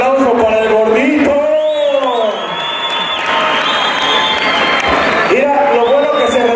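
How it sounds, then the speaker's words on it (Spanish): Crowd at a mechanical bull riding event in a Mexico City plaza clapping and cheering loudly, with whoops and shouts rising over the applause and an announcer's voice heard at the start and end. "Venga, fuerte el aplauso para el gordito."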